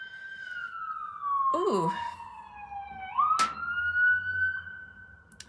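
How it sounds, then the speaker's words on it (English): An emergency siren passes outside an open window, wailing with a rising and falling sweep; a voice makes a brief exclamation partway through. "Sirens going on outside."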